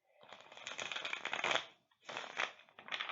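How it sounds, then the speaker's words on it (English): Tarot cards being shuffled by hand: two riffling bursts of rapid papery flutter, the first longer, then a brief pause and a second shorter shuffle, close and fairly quiet. "So that was a poor shuffle. Let me try that one more time."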